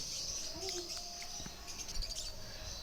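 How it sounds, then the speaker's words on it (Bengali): Caged lovebirds chirp and tweet in quick, high bursts, fairly faint against a low background hum. "খাঁচা ভর্তি পাখি আছে"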